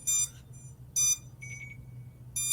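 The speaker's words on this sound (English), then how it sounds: "Something's beeping." Beeping from an FPV quadcopter left powered on and unattended, short bright electronic beeps in an irregular pattern, fairly faint over a low background hum.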